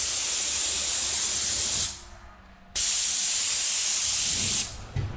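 A paint spray gun coats skirting boards with a loud, steady airy hiss that cuts off briefly mid-way, then resumes just as strongly before tapering near the end.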